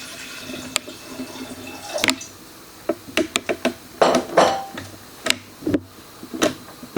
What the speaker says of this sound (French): Je mets un peu d'eau.